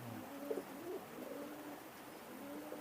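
Pakistani high flying pigeon cooing softly, a few low repeated coos over faint background hiss, fairly quiet and close.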